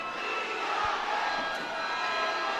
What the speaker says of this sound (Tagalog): And now the crowd now alive here at the June Dueñas gym.